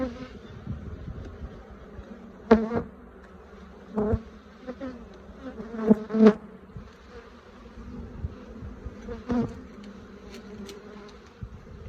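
Honey bees buzzing close by at the entrance of a Flow Hive with Langstroth-sized frames, a steady hum broken by several louder buzzes as individual bees fly past near the listener.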